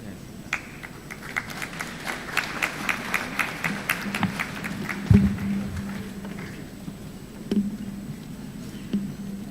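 Steady applause from a seated graduation audience honoring College of Engineering graduates, a moderate wash of clapping with a few louder thumps near the microphone and no speech over it.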